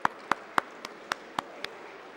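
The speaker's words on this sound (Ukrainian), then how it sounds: "Давайте подякуємо її оплесками" Claps ring out in the session hall of Ukraine's parliament, the Verkhovna Rada: about seven sharp, evenly spaced claps in a slow, steady rhythm, with no talking over them.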